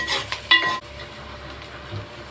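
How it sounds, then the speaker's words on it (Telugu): Cumin seeds and onions hit hot oil with a loud, close sizzle and a quick clink of a utensil, then settle into a softer continuous frying hiss. "కదా జీలకర్ర వేస్తున్నాం, 1/2 కేజీ ఉల్లిపాయలు, పచ్చిమిరకాయలు 4,"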